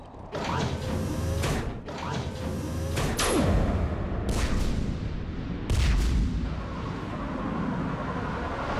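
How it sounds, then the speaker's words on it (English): Heavy guns fire in a Mass Effect 3 base evacuation, blasting a hole through the perimeter as repeated loud booms and impacts crash over constant mechanical rumble and clanking. "Have the guns punch a hole in the perimeter, then launch Shuttle 1."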